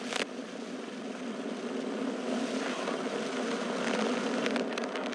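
Soyuz rocket's first-stage engines burning during launch from Baikonur, a steady, broad roar that swells slightly over the span, heard from a distance with no talk.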